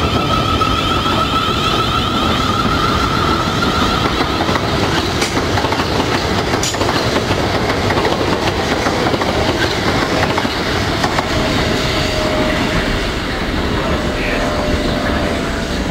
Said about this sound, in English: It's just train after train and plane after plane.